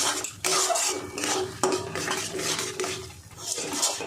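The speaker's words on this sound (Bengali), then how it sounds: "দেখুন বন্ধুরা, এটা কিন্তু এরকম অনবরত নাড়তে হবে, নাড়তে নাড়তে ভাজতে হবে" Pointed gourd and medium prawns for potol chingrir bata being stirred and fried nonstop in a pan, with a steady wash of sizzling and repeated spatula scrapes and clinks against the metal, close and continuous with no talking.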